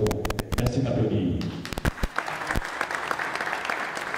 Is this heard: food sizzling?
no